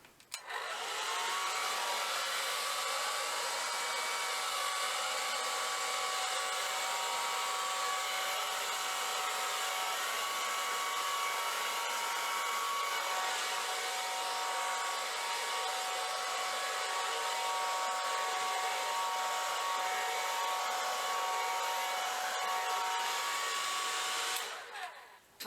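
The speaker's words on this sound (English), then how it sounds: "I love using the hairdryer to swipe with" A hair dryer on a low, cool setting blows acrylic paint across a 12 by 24 inch canvas in a Dutch pour, a steady close whooshing hum with a faint whine running unbroken for about twenty-five seconds before switching off.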